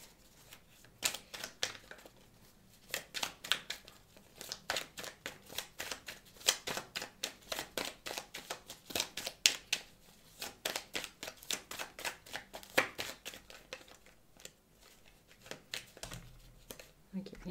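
Oracle cards being shuffled by hand during a tarot-style reading, a steady run of quick, crisp riffling snaps close to the mic that continues for the whole stretch with only a brief pause near the end.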